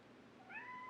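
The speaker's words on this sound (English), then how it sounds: "I don't know if y'all hear my cat, but she's sitting here meowing at me for whatever reason" A house cat meows for attention, one faint, rising then falling cry close by in a quiet room.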